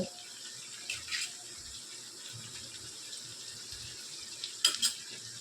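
Hibiscus and neem leaves stirred through hot homemade hair oil in a pan, a soft continuous sizzle with a few brief scraping stirs, quiet and close with no voices.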